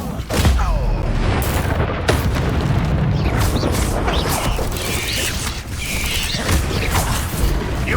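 Explosive Confringo spell blasts boom in Hogwarts Legacy combat, loud and dense with impacts, crackling debris and mechanical clatter layered continuously throughout, with a voice calling out spell names.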